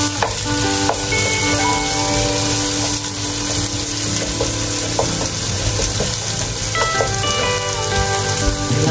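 Onions sizzle and crackle steadily in hot oil in a pan, cooked for a Paombong-style pork dinuguan, a loud continuous frying hiss with stirring clatter and no talk.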